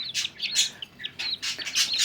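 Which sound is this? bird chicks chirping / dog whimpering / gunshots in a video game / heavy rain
bird chicks chirping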